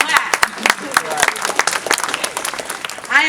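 An audience applauds during a student speech at an opening event, with scattered claps and a crowd murmur running under the speaker's voice.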